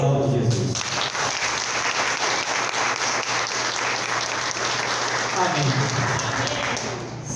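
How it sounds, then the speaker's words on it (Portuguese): A church congregation at a Holy Spirit service applauds together, a loud, dense, continuous wash of clapping that swells briefly near the end, with voices faintly mixed in underneath. "Aplaude Jesus."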